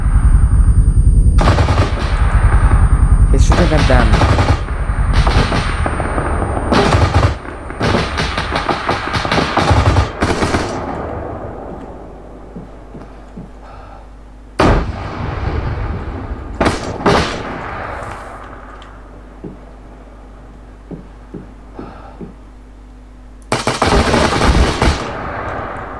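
Bursts of automatic rifle and machine-gun fire in the military shooter Arma 3, loud and close, arriving in repeated clusters with short pauses and a few isolated single shots, ending in another heavy volley.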